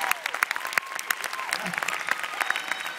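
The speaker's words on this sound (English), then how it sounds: "How about a round of applause?" An audience in Amman applauds, dense clapping from a crowd with scattered whistles and cheers, sustained throughout.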